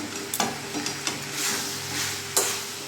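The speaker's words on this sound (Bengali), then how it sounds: "কিছুক্ষণ নাড়াচাড়া করে আমি কষিয়ে নেব।" A spoon stirs mutton liver curry with fried potatoes in a pan, giving a few soft scraping clicks over a faint steady sizzle, close and moderately quiet, with no talk.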